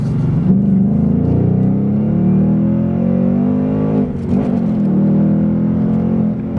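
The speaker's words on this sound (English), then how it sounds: "There's that automatic rev matching, gets it perfect basically every time" A 2019 Ford Mustang Bullitt V8 engine roars and rises in pitch, dips briefly as it downshifts, then blips back up with automatic rev matching and keeps revving loudly.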